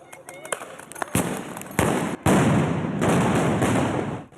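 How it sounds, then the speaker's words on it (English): Fireworks thrown during a riot in Paramount, Los Angeles go off in sharp, loud bursts and crackling volleys, several near blasts followed by sustained fizzing and popping, with crowd noise mixed in. "they had people throwing fireworks still"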